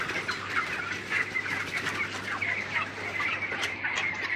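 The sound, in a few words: chickens, rooster clucking on a farm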